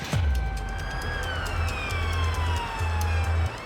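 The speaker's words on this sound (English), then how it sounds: "An ambulance is immediately dispatched" An ambulance siren on an emergency call wails steadily, with high sweeping tones over a throbbing low engine pulse, loud and close with no talk.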